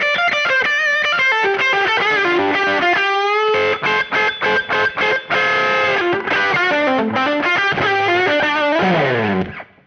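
Overdriven Gibson Les Paul lead played through a cranked 1957 reissue Fender Tweed Twin with no pedals, loud and alone: sustained bent notes, quick choppy phrases midway, then a long bend fading out.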